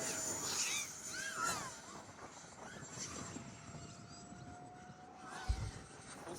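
A 50mm electric ducted fan RC jet at full throttle flies against the wind outdoors, its thin, steady whine faint and distant, with a brief low thump near the end.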